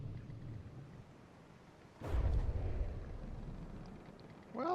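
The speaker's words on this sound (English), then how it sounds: "By explosions in the water." An underwater explosion in the naval game From The Depths, a single deep muffled boom about halfway through that rolls and fades over a couple of seconds against a low rumbling background.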